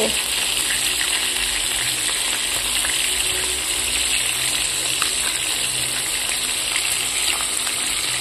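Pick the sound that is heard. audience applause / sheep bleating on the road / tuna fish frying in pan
tuna fish frying in pan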